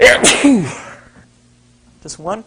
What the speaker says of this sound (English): And here comes some sneezes.